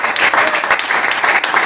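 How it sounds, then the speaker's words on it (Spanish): Church congregation applause, a loud, dense burst of many people clapping vigorously throughout the short moment, close and filling the space. "Dale un aplauso fuerte al Señor."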